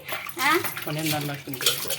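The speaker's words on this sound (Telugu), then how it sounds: "మంచి నీళ్ళు అయితే కడుగుతున్నాను" Clean running water splashes over copper vessels being rinsed after cleaning, a continuous close wash of water with someone talking over it.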